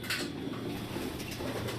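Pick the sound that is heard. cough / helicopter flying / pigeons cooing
pigeons cooing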